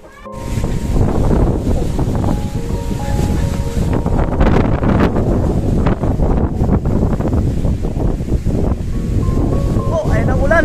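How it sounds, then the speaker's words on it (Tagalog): Rain comes down in strong gusting wind outdoors, a loud, continuous rushing roar with buffeting bursts against the microphone that swell and ease over several seconds. "Oh, ayun ang ulan, mga kanuli."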